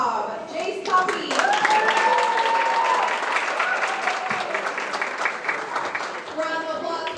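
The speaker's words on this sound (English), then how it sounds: "Round of applause for our top 6th grade individual scores." A school geography bee audience claps for the top sixth-grade individual scorers, a dense, lively round of applause that holds steady while a voice carries over it.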